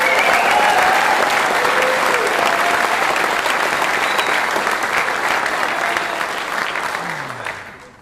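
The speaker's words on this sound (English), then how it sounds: "Please join me in a round of applause to recognize the 2025 Best Seabird Warrior Competition competitors." A large audience at a military CBRN warrior competition awards ceremony applauds the competitors, loud continuous clapping that holds steady for several seconds and then tapers off, a faint voice briefly audible near the end.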